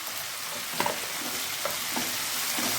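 Tindora frying in oil with salt and turmeric, a steady broadband sizzle with a few soft stirring scrapes; no talking.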